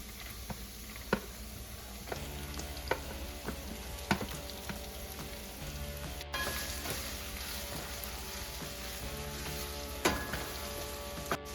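Chopped onion sizzles in a hot pan while cooking palak paneer, a continuous crackling fry with scattered sharp pops and occasional clinks of a utensil.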